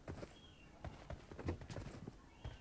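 Footsteps in a video game, faint and quiet, tapping in an irregular patter of soft steps spread across a few seconds.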